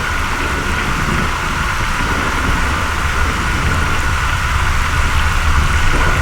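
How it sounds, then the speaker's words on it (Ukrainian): Loud, steady downpour of rain hissing without pause during a thunderstorm, with a low rumble of thunder underneath; no voices. "бо зараз дощ з грозою"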